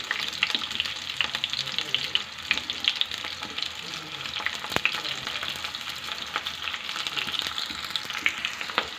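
Onion, green chili and spices frying in a pan for okra (bendakaya) pulusu, a continuous close crackling sizzle with scattered sharp pops and occasional stirring, no speech.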